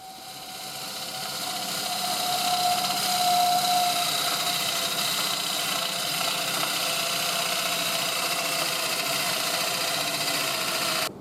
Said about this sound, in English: I'm using the Crown bowl gouge here. It's beautiful bowl gouge.